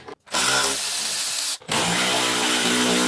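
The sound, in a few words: removing 10 mm bumper bolts on a GMC Canyon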